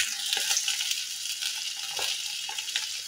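Potatoes with salt and turmeric sizzle steadily in hot oil in a pan, a continuous bright crackle with occasional soft stirring pulses, moderately quiet and close.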